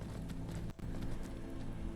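Horse hooves galloping in a video game, a quick, even run of soft clip-clop beats at moderate distance with a brief gap in the middle.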